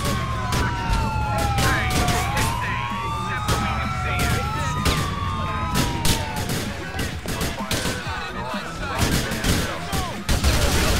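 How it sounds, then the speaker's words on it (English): Police cruiser siren in GTA IV, wailing and sweeping up and down continuously, loud and close, mixed with bursts of game gunfire and dense action noise. "Just a police cruiser."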